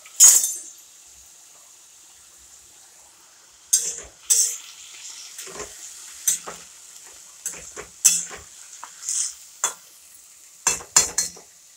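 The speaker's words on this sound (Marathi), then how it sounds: "हलवून घेऊ भाजी आता आपण।" Spring onion greens and vegetables being stirred in a frying pan, with a steady soft sizzle under repeated scraping and clinking strokes of a spoon against the pan, close and moderately loud, with no talking.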